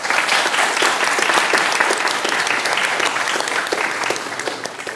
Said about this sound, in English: And one applause for the affirmative team.